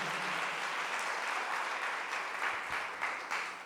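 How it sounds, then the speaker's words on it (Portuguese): A church congregation applauds the Lord at an evening service, a sustained, moderately distant wash of many hands clapping that tapers off toward the end, with no speech over it. "Alguém pode aplaudir mais uma vez ao Senhor?"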